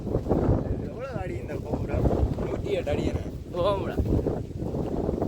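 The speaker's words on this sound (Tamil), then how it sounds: "காத்தும் பயங்கரமா அடிக்குது" Strong wind buffets the microphone outside a Shiva temple with a 108-foot tower at Oddusuddan, a continuous loud rumbling roar under a voice.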